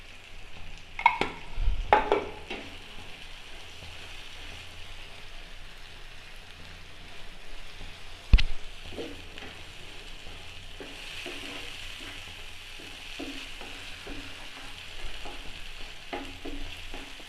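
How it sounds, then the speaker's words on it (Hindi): An egg and tomato mixture sizzles softly in a pan as it is stirred, with a few scraping knocks from the spoon and a steady faint hiss underneath. "हिलाते रहना है आपने ताकि नीचे से जले ना।"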